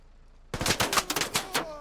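A rapid burst of rifle fire in a military shooter game pitting the US 10th Mountain Division against Russian airborne troops: about eight sharp, close shots in quick succession, starting abruptly out of near silence.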